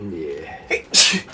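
A person gives one sharp, loud sneeze after a brief murmur and a short intake of breath, with a voice speaking close by.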